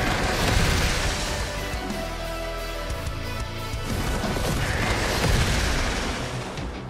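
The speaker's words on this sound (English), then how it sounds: "Zaid pierces the ground with his dual glaives to summon a sand serpent to attack enemies." A video game skill effect as Zaid drives his dual glaives into the ground and summons a sand serpent, a dense, continuous roaring rumble with crashing and booming layers that stays loud and unbroken throughout.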